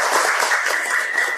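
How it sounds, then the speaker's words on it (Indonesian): Classroom audience applause after a lesson on the afterlife, a brisk, continuous patter of many hands clapping, fairly loud and close throughout. "Beri tepuk tangan lagi untuk kita."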